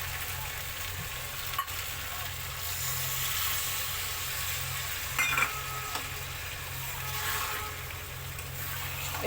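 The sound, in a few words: sautéing fish with spices in a pan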